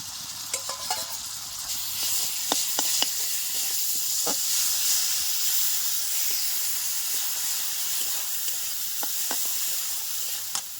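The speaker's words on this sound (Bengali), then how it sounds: "সে আমটাই পেঁয়াজের মধ্যে দিয়ে দেবো তেলের উপরে দিয়ে একটু নাড়াচাড়া করে নেব" Grated green mango is stirred into onions frying in oil, giving a bright, continuous sizzle with hissing steam and repeated sharp scrapes of the spoon against the pan.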